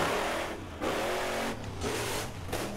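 A vehicle engine revs in the video game Borderlands 1, a loud, buzzy, distorted roar that surges and dips in several quick pulses over a few seconds.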